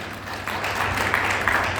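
An audience at a large corporate gathering in BHEL claps after a closing speech, a dense, even patter of applause at moderate distance that fills the moment.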